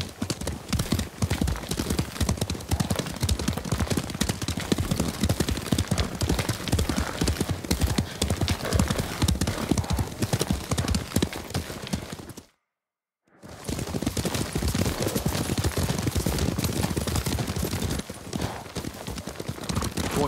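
Horses gallop in Ghost of Tsushima, with steady, loud clip-clop hoofbeats running almost continuously and a brief silent gap partway through.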